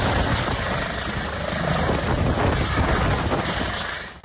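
Rotor and engine roar of a medical air-ambulance helicopter near a stadium landing site in Kyiv region, loud and steady throughout with wind buffeting and no voices.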